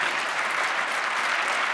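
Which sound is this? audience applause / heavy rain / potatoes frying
audience applause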